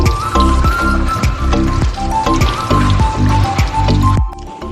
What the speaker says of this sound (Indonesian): cuci daun sirih di air mengalir untuk menghilangkan debu dan kotoran